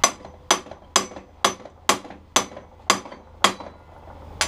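A hammer strikes a handheld impact driver in nine sharp, loud metallic blows at a steady rhythm, each with a short ringing decay, heard alone.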